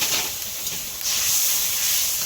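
Water poured into a hot pan of frying shrimp, giving a loud, steady hiss of steam that surges stronger midway and carries on without pause.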